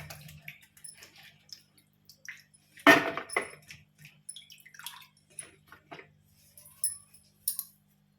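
Onions and tomatoes being washed under running water, with intermittent splashes, trickles and drips in short bursts, one louder gush near the middle, fairly quiet and close.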